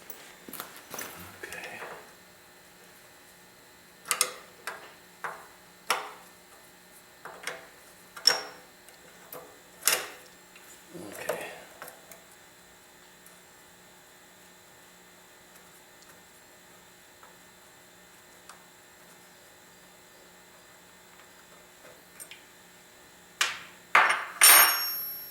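A 7/16 wrench working on a bracket of a Coleman generator, producing scattered sharp metallic clinks and taps spaced seconds apart, with quiet gaps between them and a cluster of knocks at the end.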